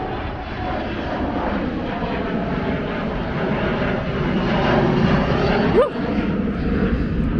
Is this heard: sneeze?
no